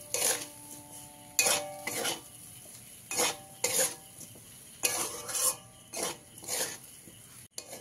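Semolina (suji) stirred with water in a pan for spicy jhal suji: about ten sharp, close scraping strokes of a spoon against the pan in an uneven rhythm, with quiet gaps between them and no talking.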